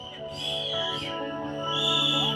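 Several shrill, sustained whistles from an audience at a film trailer launch event overlap and rise in pitch, loud and fairly close, with no talking.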